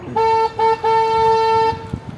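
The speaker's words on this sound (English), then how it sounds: "I do have to honk my horn right here" A car horn honks loudly nearby on the San Antonio Riverwalk: two short beeps followed by one long blast.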